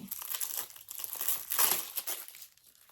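Crinkly plastic wrapping on packaged cards rustles and tears for a few seconds, close up, in quick uneven crackles.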